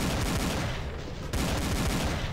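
Rapid, dense gunfire from the Doom mod Project Uber, a loud continuous barrage of overlapping shots with a brief lull before the firing resumes.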